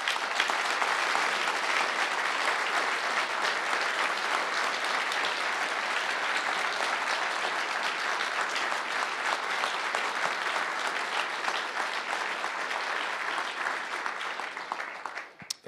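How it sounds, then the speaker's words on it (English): Long, steady round of applause from an audience at an intelligence-policy event honoring General Hayden, even dense clapping that holds for about fifteen seconds before cutting off. "round of applause for General Hayden."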